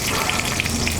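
Four green chillies and lightly browned garlic fry in hot oil, giving a dense, even sizzle with small crackling pops, close and steady throughout.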